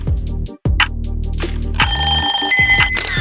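A loud, bright electronic alarm clock rings in a shrill, buzzing pattern over busy background music.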